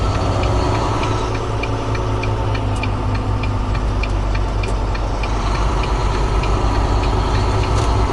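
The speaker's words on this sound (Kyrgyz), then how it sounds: "Мына Walmart'ка да келип трактор коюп коет ушинтип." A semi-truck tractor idles in a Walmart parking lot in Minnesota, a loud, close, constant diesel drone with a faint regular ticking running through it. No one speaks.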